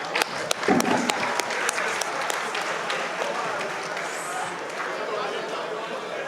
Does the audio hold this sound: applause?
yes